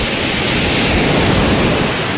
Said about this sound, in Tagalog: Medyo malakas ang dagat ngayon sa Puerto Galera.